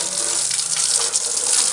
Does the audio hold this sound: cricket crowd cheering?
no